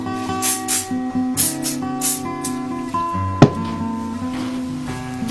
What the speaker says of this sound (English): And before I start, I'll spray the ends.